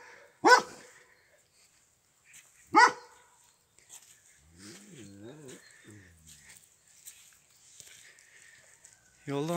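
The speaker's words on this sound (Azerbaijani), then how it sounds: "İki it də sürü ilə getdi." Sheepdogs guarding a flock in the mountain village of Nəsirvaz bark twice, sharp and fairly close, a couple of seconds apart, followed by quieter voice-like calls and a faint background hiss.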